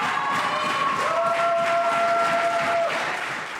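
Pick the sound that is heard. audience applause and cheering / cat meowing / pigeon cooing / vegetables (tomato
audience applause and cheering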